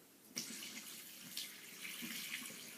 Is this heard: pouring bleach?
yes